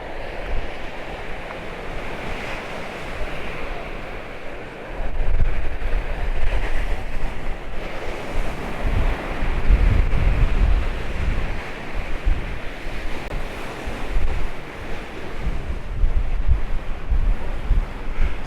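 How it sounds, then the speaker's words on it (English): Choppy sea at Paphos harbour, with waves surging and splashing continuously under heavy wind buffeting the microphone, the surf swelling louder in the middle and toward the end. "Nice choppy sea."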